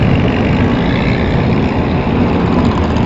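An old race-ready car fitted with a 355 Chevy engine runs at Winchester Speedway during an old-time race car parade, a loud, steady, broadband engine roar close by with no break and no voices.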